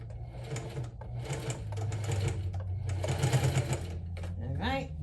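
A sewing machine stitches down a fold on a quilted crossbody handbag, running in several short bursts with brief pauses, close and clear.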